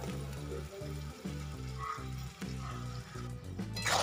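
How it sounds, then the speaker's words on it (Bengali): Bottle gourd paste sautéed with spice masala in a pan, a steady close sizzle with a rhythmic scraping stir, no voices. "এবার লাউটা দিয়ে আমি ভালো করে কিন্তু মশলাটাকে এবার কষিয়ে নেব, যতক্ষণ না এর থেকে তেল ছাড়ছে"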